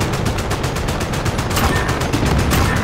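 Rapid automatic gunfire from Call of Duty, a steady stream of evenly spaced shots, loud and close, running continuously for the whole moment with no talk.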